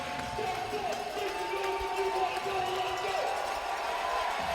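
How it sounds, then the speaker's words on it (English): Arena crowd at a National Lacrosse League game between the Calgary Roughnecks and Washington Stealth, a steady broad roar of cheering for Washington under a commentator's voice. "Crowd making some noise here for Washington"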